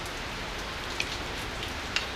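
Steady rain falls, a continuous even hiss with a couple of faint drop ticks and no voices.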